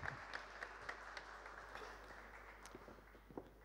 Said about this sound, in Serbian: Molim vas aplauz za gospodina Ivkovića